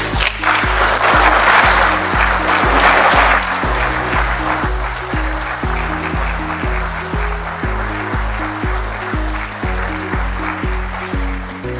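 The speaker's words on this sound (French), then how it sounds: "je veux demander à la plénière d'applaudir très fort" Plenary assembly applauding loudly, a dense sustained wash of clapping over a steady, beat-driven music backing throughout.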